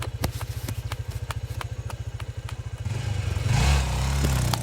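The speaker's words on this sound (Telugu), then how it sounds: "ఇందు, వాడి బైక్ మీద ఎందుకు వచ్చావు?" A motorcycle engine idles with a steady, rapid putter, then revs up louder toward the end.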